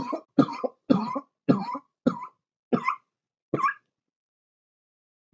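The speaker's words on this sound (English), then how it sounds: "Also turns out that I've had a really nasty cough" A person with a nasty chest cough lets out a run of about seven harsh, close coughs in a quick, uneven rhythm, with a short silence after them and a faint sound at the very end.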